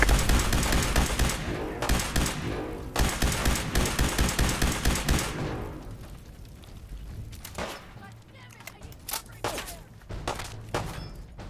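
Gunfire in Fallout 4: dense rapid-fire bursts pound close and loud for several seconds, then thin out into scattered, separate shots and distant pops.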